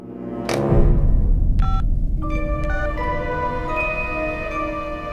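A telephone being dialed, a quick series of distinct keypad tones following a sharp bump, then steady ringing tones continuing to the end.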